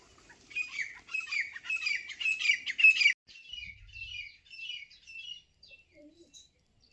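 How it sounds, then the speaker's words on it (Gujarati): Birds chirp in quick, bright bursts, loud and close at first, then thinning into softer, sparser calls before fading out. "પક્ષીનો અવાજ સાંભળો"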